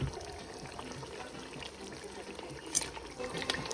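Water is poured into a pot of chicken sauce seasoned with sofrito, making a faint, steady trickling and splashing stream that lasts throughout.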